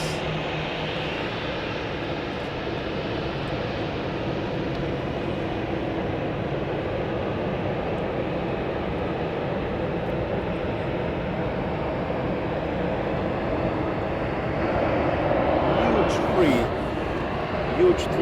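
A jet airliner taxis at Dallas Love Field, its steady engine roar filling the whole stretch and swelling slightly near the end, with a person talking over it.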